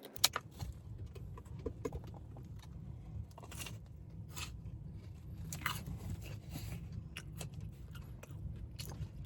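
Crunchy bites and chewing of a regular glazed donut at a Dallas donut shop, a series of close crisp crunches and mouth sounds over a low steady background hum.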